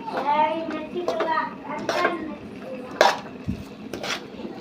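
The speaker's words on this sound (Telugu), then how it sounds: "ఇప్పుడు మనం కాకరకాయ ముక్కలు వేసుకుందాము" Pieces of bitter gourd go into hot oil in a pan with onion and chilli masala, bringing metal clinks and stirring scrapes against the cookware while someone talks over the kitchen sounds.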